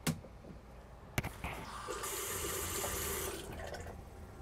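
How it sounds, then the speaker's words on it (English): Water runs from a bathroom tap in an RV fed by a HydroMax fresh water pump, a steady hissing flow that starts after a click and swells, then eases toward the end, with no talk. "turn on the pump, and then run a little bit of water to see."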